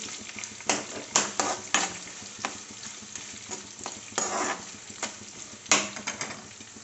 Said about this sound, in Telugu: ఇవి వేగుతున్నాయి కదా